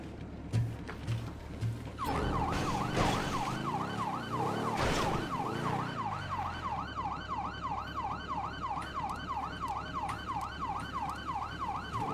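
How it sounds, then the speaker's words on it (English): A vehicle siren in Fortnite wails in a fast, steady up-and-down cycle, loud and close, after a stretch of engine and crash noise at the start. "I don't know how to turn the siren off."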